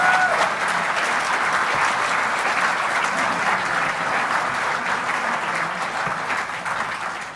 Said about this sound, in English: Can we have a round of applause to thank them for their service?